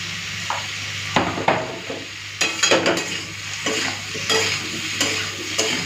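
Turmeric powder is stirred into frying spices in a pan, with irregular spoon scrapes and knocks against the metal over a continuous close sizzle.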